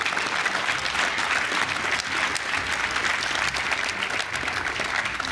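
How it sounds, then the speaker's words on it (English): A crowd at a live venue during a handball championship draw event cheers and applauds steadily for several seconds, a dense, sustained wash of clapping heard close and loud. "So if you enjoyed yourself, give him a big cheer."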